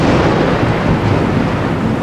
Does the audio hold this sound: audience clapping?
no